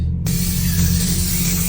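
Antibacterial aerosol spray discharging inside a car with the air conditioning on: a short silence, then a sudden loud, steady hiss held close to the can.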